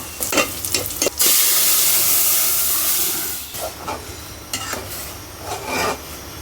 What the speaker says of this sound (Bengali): রসুন পেঁয়াজ কাঁচামরিচ এখন ডাল বাগার দিয়ে দিব